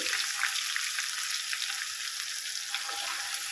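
Ginger garlic paste frying in a hot pan, giving a steady, bright, hissing sizzle that holds at an even loudness throughout with no talking.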